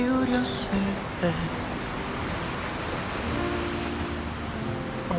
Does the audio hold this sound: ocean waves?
yes